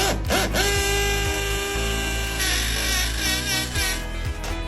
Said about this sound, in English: Now I'm gonna drill my pilot holes for my lag bolts